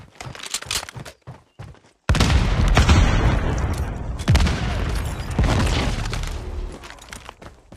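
A frag grenade blows up in Call of Duty Mobile: a sudden loud boom that rolls into a long, roaring rumble lasting several seconds, after a few sharp, scattered gameplay noises.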